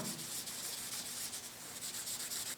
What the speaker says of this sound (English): So I'm going to clean up these interfaces with a little lacquer thinner.